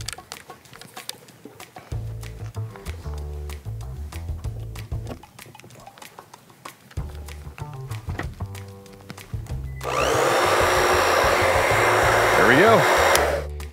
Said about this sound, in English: I'll just grab the hairdryer and plug it in and see what happens.